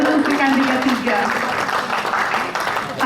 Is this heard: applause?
yes